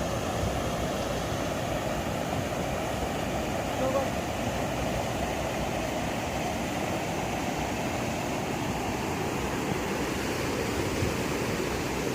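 Water flows over the Lokapavani check dam in Mandya, Karnataka, a steady broad rushing roar that stays constant and fairly close, with a person talking faintly over it.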